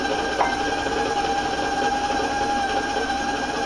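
An electric mixer beats granulated sugar into chocolate mint cupcake batter, giving a steady, close motor whir with a faint tonal hum that holds evenly throughout, with no talking.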